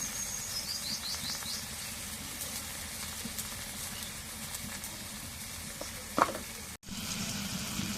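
Garlic and cumin paste frying in a pan, a soft continuous sizzle at moderate distance with a brief clink near the end, no speech.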